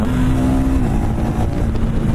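A KTM quarter-liter single-cylinder motorcycle engine drones loud and close at steady revs, a dense continuous throb with a slight pitch drop partway through, no voices.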